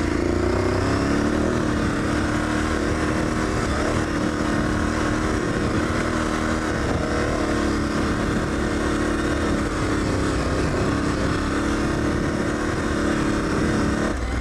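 An Aprilia Tuareg 660 motorcycle engine drones loud and close on a snowy trail, a continuous rumble that swells and eases slightly as the throttle rolls on and off, with no voices.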